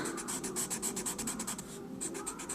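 Rapid back-and-forth scrubbing of an eraser across pencil drawing lines on paper, a steady rhythmic rubbing close up, continuing in quick strokes with a brief pause before resuming.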